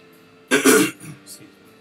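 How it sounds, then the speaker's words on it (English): A single harsh throat clearing, close and fairly loud, followed by a softer short rasp, with faint background hum. "Sorry to clear my throat"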